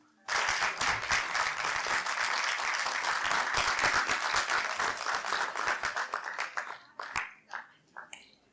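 An audience at a college mushaira and book release claps in a loud burst that holds for several seconds, then thins out into scattered claps that fade.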